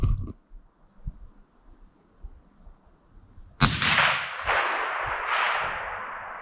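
A single 300 Win Mag sniper rifle shot breaks a near-silent stretch with a sharp, loud crack, then a long rumbling echo rolls away with a couple of fainter rebounding swells.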